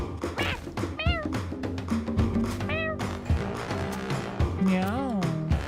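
Drawn-out cat meows sound in Nioh 3 gameplay: a couple of rising cries early on and a wavering one near the end, over busy game noise, with someone talking throughout.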